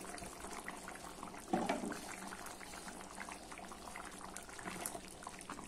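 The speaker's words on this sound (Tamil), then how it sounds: "மூடி ஒரு 5 நிமிஷம் கொதிக்க வச்சுக்கலாம்." Vegetable poricha kulambu simmering in a covered pot, giving a soft, steady bubbling that stays faint throughout, with one slightly louder gurgling burst early on.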